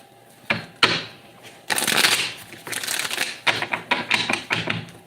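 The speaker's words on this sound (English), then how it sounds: "I want to do 3 more shuffles" Tarot cards shuffled by hand in several quick riffling bursts, crisp and close, with short pauses between shuffles.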